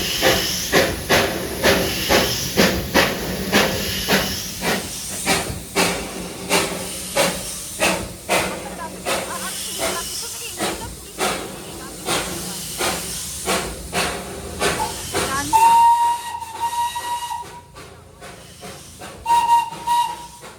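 A steam toy train at Ghum station chuffing in steady, evenly spaced hissing bursts of steam, loud and close. The chuffing fades toward the end, where a brief whistle tone sounds twice.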